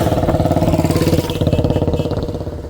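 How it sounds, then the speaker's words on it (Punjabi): A motorcycle ridden at full speed along a rural road past fields, its engine a loud, close, steady pulsing drone throughout. "ਇਹ ਪੂਰੀ ਤੇਜ਼ ਮੋਟਰਸਾਈਕਲ ਤੇ ਜਾ ਰਹੇ ਆ"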